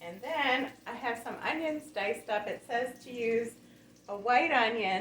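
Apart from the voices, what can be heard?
None of the usual background noises is heard.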